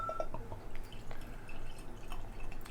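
Barrel-aged coffee vanilla stout pours into a glass with steady close liquid splashing and dripping, a continuous wet trickle lasting several seconds with no talking.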